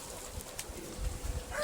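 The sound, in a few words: birds on a poultry farm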